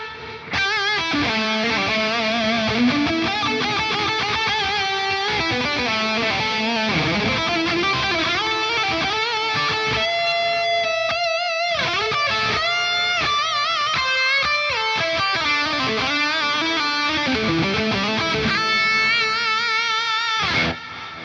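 An electric guitar runs through an Axe-Fx III diffusion effect with no pitch shifting, giving smeared, shimmering sustained notes and chords that play alone for about twenty seconds.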